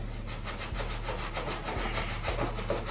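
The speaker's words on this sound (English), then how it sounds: "I'm finna scrub, go around one more time." A brush scrubbing white shoes, giving a close, steady rasping rub with rapid back-and-forth strokes throughout, under a low background hum and with no voices.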